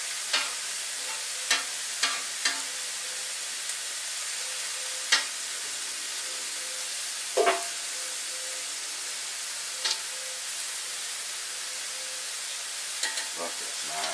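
Cube steak and onions fry on a flat-top grill with a steady, even sizzle, and a few soft scrapes and clicks of a spatula turn up now and then.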